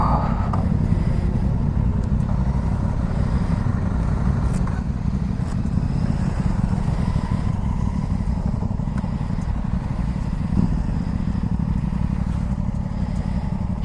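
Aprilia Tuono 660 motorcycle on a ride, its engine a steady dense rumble throughout with wind and road roar, no voices.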